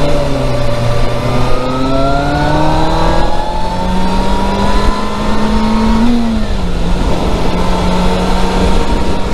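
A loud, close engine revs and climbs steadily in pitch, shifting and rising again with a continuous roaring drone, like a racing motorcycle at speed.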